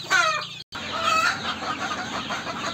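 Young chickens about one to one and a half months old in a tarp-lined poultry room, clucking and chirping continuously and fairly close, with overlapping calls and a brief dropout early on.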